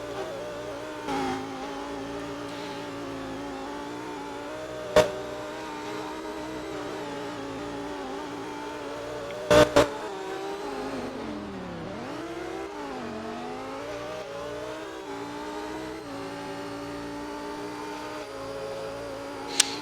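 Sports cars race up a hill into a sector of a circuit, engines droning steadily and close with a few sharp clicks, one dip and rising pitch suggesting shifting and acceleration, no voices heard.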